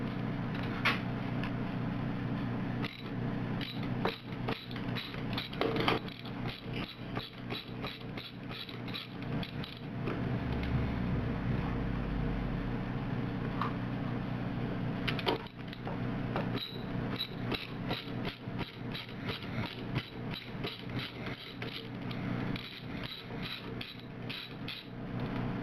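A socket wrench ratchets off nylon stop nuts holding a valve pack, giving a long run of quick, close mechanical clicks in steady bursts with brief pauses between strokes.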